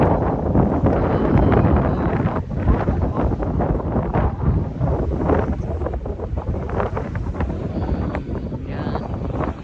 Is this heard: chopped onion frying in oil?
no